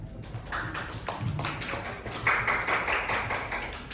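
An audience claps at a talk, a short burst of brisk overlapping hand claps that swells briefly, with no voices heard.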